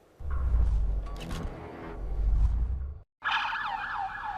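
Emergency sirens from ambulances and police outside a level 1 trauma center hospital, a loud wailing siren sweeping up and down near the end after a brief gap, with heavy low traffic rumble before it.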